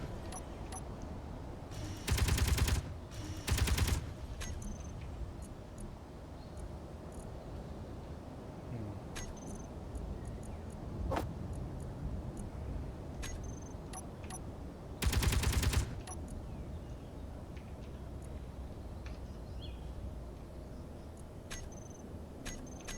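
A reskinned Gatling gun in the video game Space Engineers fires in a few short, loud bursts, two close together early on and one later, separated by quieter background game noise.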